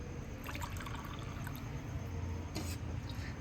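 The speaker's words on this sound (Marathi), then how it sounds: "मी दूध ओतून घेते कपांमध्ये अजून दूध गरम आहे" Hot milk pouring into cups, a soft steady trickle and liquid splash running faintly and continuously, with a couple of light clinks.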